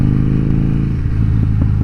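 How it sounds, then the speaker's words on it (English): A 2014 Harley-Davidson Dyna Fat Bob V-twin engine, loud and close, rumbling in a deep lumpy pulse at a steady pace. "This bike sounds great."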